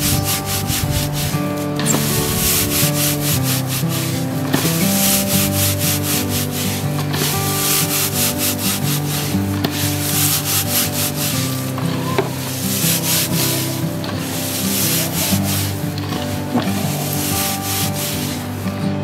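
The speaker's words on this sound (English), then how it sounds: "just further crush the leaves and then sift out the rough stuff" Steady, continuous rustling and grinding of dried moringa leaves crushed by hand, with rhythmic scraping surges that repeat throughout.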